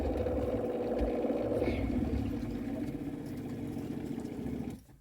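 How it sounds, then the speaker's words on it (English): Fresh water pump on a campervan runs steadily as the system builds pressure, a continuous close mechanical hum with a low buzzing drone that holds for about five seconds before cutting off. "And then we're turning the pump on."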